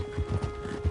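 Horse hooves clip-clopping in the Red Dead Redemption 2 video game, a few quick hoofbeats close by with a faint whinny-like tone, over a steady low hum.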